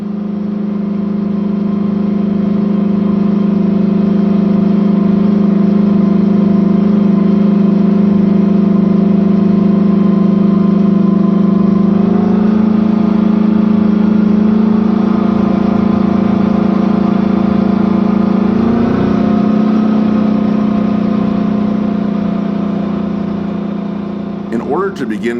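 A Big Bud 16V-747 tractor pulls an 80-shovel chisel plow through a large field while preparing seedbed for winter wheat, its big diesel engine a loud, steady low drone that strains deeper midway, with no talk over it.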